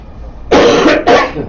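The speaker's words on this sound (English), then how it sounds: "I do have me some cough still" A person coughs twice in quick succession, loud and close, with a short gap between the two harsh bursts and a lingering cold behind them.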